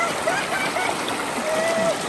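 Steady broadband rush of a waterfall and stream in a natural setting, continuous and fairly loud with no clear breaks.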